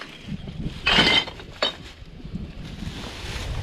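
Glass bottles and jars clink together while recycling is sorted, giving one rattling burst and then a sharp second clink up close over low background rumble.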